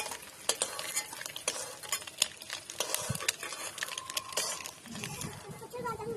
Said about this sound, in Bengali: এক এক করে আমি তেলে সব ডিমগুলো ভেজে নেবো